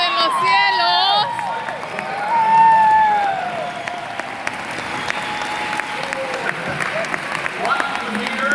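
An audience at a John Maxwell leadership talk breaks into sustained applause, a dense wash of clapping with some cheering and whoops that swells early and then holds steady for several seconds.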